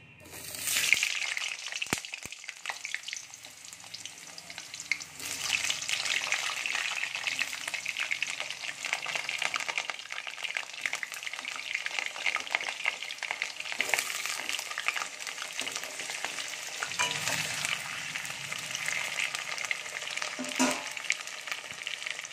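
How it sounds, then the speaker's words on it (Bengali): Cut potatoes fry in hot mustard oil in a wok, a loud, continuous close sizzle broken by several scraping stirs and clanks of a utensil against the metal. "তেলটা গরম হয়ে গেছে, এবার কেটে রাখা আলুগুলো একটু ভালো করে ভেজে নেব"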